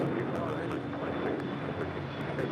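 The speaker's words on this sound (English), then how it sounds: "runway 25 right, clear to take off" An airliner takes off from runway 25 right at LAX with a loud, continuous broadband jet roar, while a voice talks over it.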